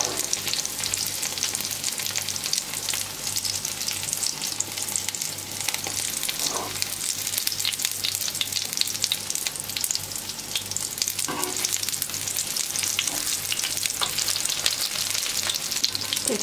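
Zucchini fritters frying in oil in a pan, a loud continuous close sizzle with a few faint clinks and scrapes of turning.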